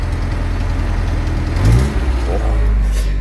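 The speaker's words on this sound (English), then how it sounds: "Don't know if you can hear that exhaust." A vintage motorhome engine idles with a deep, steady exhaust rumble from a faulty manifold, then revs briefly with a rising throaty surge before settling again, heard close up.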